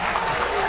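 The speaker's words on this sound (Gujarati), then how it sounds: "જોરદાર તાળીઓ થઈ જાવ મુકા માટે" Applause from a studio audience at a Gujarati dance talk show, a dense steady clatter of clapping throughout the brief moment.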